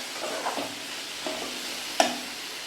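Dry red chillies fry in a pan while being stirred for mint chutney, a steady soft sizzle with a few faint scraping strokes and one sharp knock near the end, no voices.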